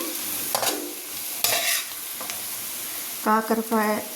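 Bitter gourd masala frying in oil sizzles softly with a few brief stirring scrapes in a quiet kitchen, and a short voiced sound comes near the end.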